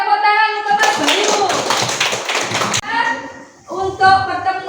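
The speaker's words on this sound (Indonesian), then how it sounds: "tepuk tangan untuk Mas Bayu" Classroom students clap their hands in a dense burst lasting about two seconds, with a teacher talking just before and after the applause.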